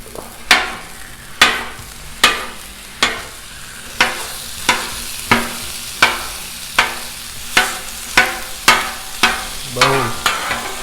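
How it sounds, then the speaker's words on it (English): Ground beef frying on a Blackstone griddle, with a steady sizzle broken by sharp, regular metal spatula scrapes and chops about every half second, close and loud, with no voices. "So let's get this ground beef going. Ground beef is super easy to cook on the griddle."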